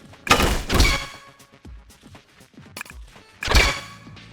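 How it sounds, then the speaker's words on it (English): Kicks striking a ninja in TMNT Tactical Takedown, three heavy thumping impacts with crunchy attack, spaced about a second apart, with smaller knocks and clicks between them. "Kick this ninja."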